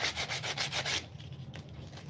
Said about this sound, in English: I'll go ahead and hit the rest of it with this sanding paper.